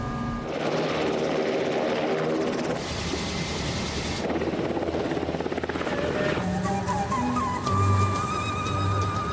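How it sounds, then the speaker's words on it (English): A Black Hawk helicopter's rotor and turbine drone loudly and continuously from inside the cabin, the pitch shifting slightly as it flies. "Our royal tour of Jordan begins in the king's private Black Hawk helicopter."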